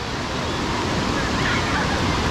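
A steady rushing wash of ocean surf on a hot day at Jones Beach, New York, close and continuous for a couple of seconds, with some wind buffeting the microphone.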